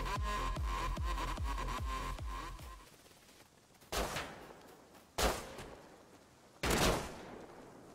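Gunfire in the survival video game Rust: a rapid burst of repeated shots, then three separate louder blasts spaced over a few seconds, with no talking.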